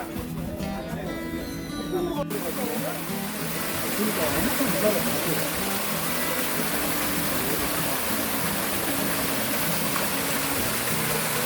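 Waterfall at Hwadam Forest, a broad steady rush of falling water that stays loud and continuous throughout, with people talking over it near the start.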